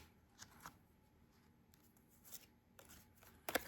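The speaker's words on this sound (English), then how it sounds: "I'm going to keep shuffling." Tarot cards being shuffled by hand, soft intermittent riffling bursts that are faint and close, ending with a sharper, louder flurry of card snaps.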